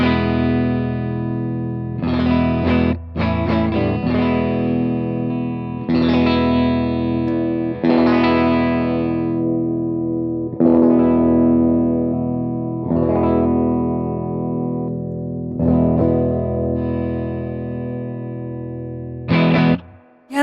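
Electric guitar with its tone knobs rolled back, played through effects with distortion, strummed chords and picked notes ringing out in several phrases separated by brief breaks, close and fairly loud with no talking.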